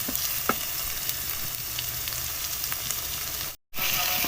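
A steady, close sizzle of garlic ginger paste frying in a pan, with faint stirring scrapes and no talking.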